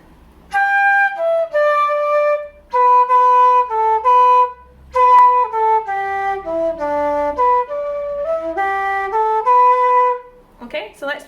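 A flute plays the first line of the A part of a traditional tune alone, a clear, bright melody of short phrases with brief breaths between them, ending with a few faint rustles.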